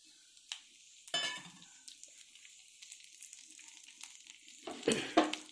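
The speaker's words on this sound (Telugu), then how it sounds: "ఇవి ఫ్రై అవ్వాలండి." Tempering spices and masala hit hot oil or ghee in a pan for tomato bath, giving quiet intermittent sizzles and crackles, with a couple of sharper bursts and faint stirring clatter between them.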